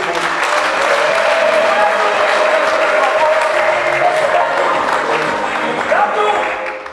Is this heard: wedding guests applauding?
yes